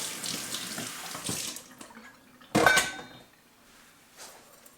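Tap water runs into a sink as something is rinsed off during pour-over coffee brewing, a steady close splashing flow with a brief louder gush midway, no talking.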